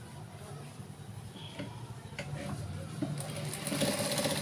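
Sewing machine stitching a boat-neck blouse, a soft steady whir running throughout at moderate level, growing slightly louder toward the end, with faint background noise.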